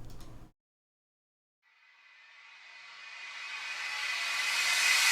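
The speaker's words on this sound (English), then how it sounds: "Literally just a riser into a boom" A reverb riser in electronic music production follows a short cut-off and some silence, swelling as a hissing, rising wash of noise that grows steadily brighter and louder.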